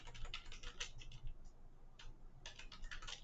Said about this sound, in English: and just type